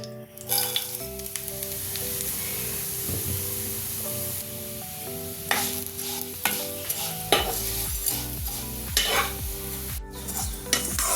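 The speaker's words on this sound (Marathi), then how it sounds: "आता त्यामध्ये ह्या शेवया आपण भाजून घ्यायच्या।" Wheat vermicelli roasting in homemade ghee in a pan, a steady soft sizzle with repeated scraping stirs that grow more frequent toward the end, close and alone without talk.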